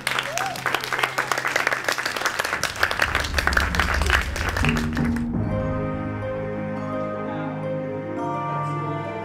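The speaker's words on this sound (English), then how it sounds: "I think you should give yourselves a big clap, don't you?" Audience applause after a school Beowulf storytelling and music performance, dense clapping for about five seconds that then gives way to sustained music.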